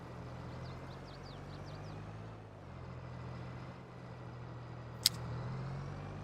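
Tractor engine in a farming video game, a steady low drone holding at moderate level for the whole stretch, with a brief sharp click near the end and no talking.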